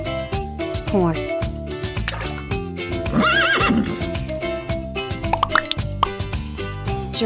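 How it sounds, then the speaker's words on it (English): A toy horse sounds off with a neigh and rhythmic clip-clopping hooves over a music-heavy backing track, loud and close, among a series of toy animal sounds. "Horse."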